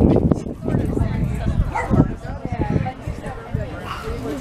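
A puppy at an RV rally gives a few short barks and yips, close by and mixed in with people talking.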